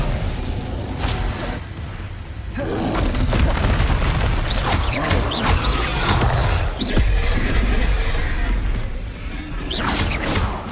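Spells such as Confringo and Incendio are cast in the Hogwarts Legacy video game, producing a dense run of loud booms, crashes and whooshing blasts that go off in quick succession and keep going without a pause.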